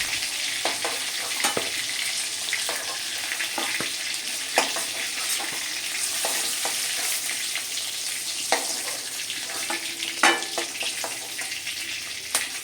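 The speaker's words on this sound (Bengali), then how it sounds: "বাকি মাছগুলো ওই তেলে একই রকমভাবে আমি ভেজে নেব" Steady, dense sizzling of magur catfish frying in hot oil, continuous throughout with occasional sharper pops and crackles.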